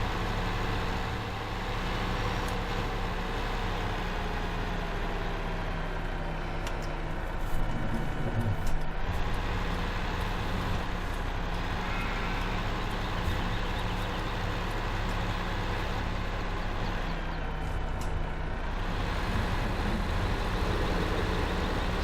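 A lorry in Farming Simulator 2015 drives through a tight farm area, its engine droning steadily and evenly, loud and alone without talk, with slight pitch shifts as it moves.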